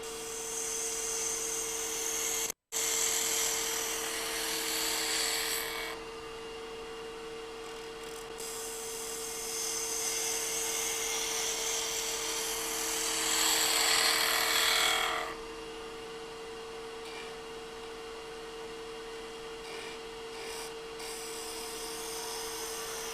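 A wooden sphere spinning on a wood lathe, a steady high-pitched whine with bursts of hissing, scraping cuts as the tool meets the wood, then quieter stretches of the motor running alone.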